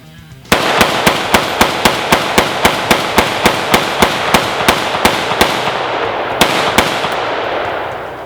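A Century C308 rifle fires a rapid string of roughly twenty loud, sharp gunshots at a steady, slightly uneven pace during a 1000-round torture test, with brief pauses near the end, no talking.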